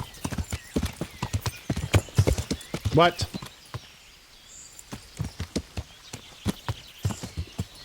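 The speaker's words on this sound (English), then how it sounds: "Whose horse is this?" Horse hooves clip-clop in a quick, steady rhythm in the Kingdom Come Deliverance video game, with a loud whinny partway through and a voice briefly speaking.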